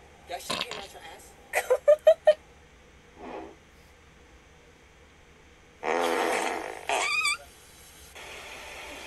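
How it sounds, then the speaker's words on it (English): Fart noises from a fart spray prank, several short bursts with a rapid run of pops, then longer blasts later, mixed with people talking and laughing. "Because it's just a fart."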